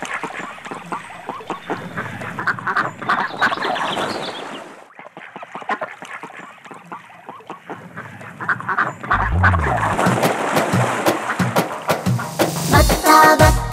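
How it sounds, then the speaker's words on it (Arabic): Ducks quack repeatedly at a pond, bursts of rapid honking calls coming and going at moderate distance, with a louder flurry toward the end and splashing water texture underneath, no talk. "بطة بطة شفناها جوا البركة محياها"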